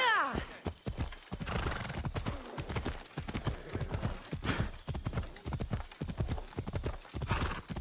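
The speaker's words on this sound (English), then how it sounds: "Oh, there's a horse." In Assassin's Creed Odyssey, a horse gallops with rapid, loud hoofbeats and lets out a shrill whinny, while someone talks over the action.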